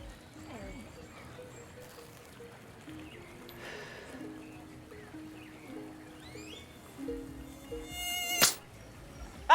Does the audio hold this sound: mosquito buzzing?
yes